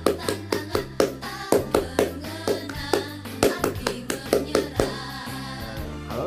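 Rhythmic scout hand clapping (tepuk pramuka) in a repeated patterned sequence, crisp and close, with steady groups of claps and short pauses between phrases.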